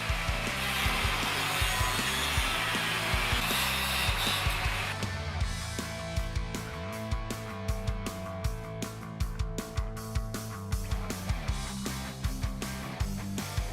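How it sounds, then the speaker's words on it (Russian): An angle grinder cuts a steel gun receiver, a continuous harsh whine with rhythmic grinding strokes repeating through the cut, loud and close, with no talk. "Вырезал его с помощью болгарки."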